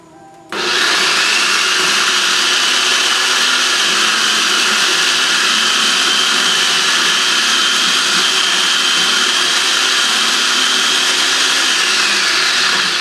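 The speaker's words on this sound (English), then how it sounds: "I'm just going to use a food processor. I'm going to slice the onions very thin." A food processor slicing sweet Vidalia onions starts up abruptly and runs at a loud, steady, high-pitched motor whine. It stays close and constant with no pauses or speech.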